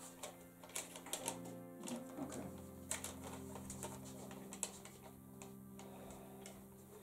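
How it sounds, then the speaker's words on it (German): A chart recorder pen resting on paper ticks and scratches rapidly back and forth, a steady mechanical clatter with an underlying hum, heard alone without talk. "Der liegt auf dem Papier auf und bewegt sich hin und her."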